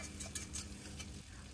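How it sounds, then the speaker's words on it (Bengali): Whole cardamom, bay leaves, cinnamon and dried chillies fry in oil, giving a close, faint crackling sizzle with light stirring scrapes over a short stretch. "কয়েকটা এলাচ, তেজপাতা এবং দারুচিনি এবং কয়েকটা শুকনো মরিচ দিয়ে দিয়েছি"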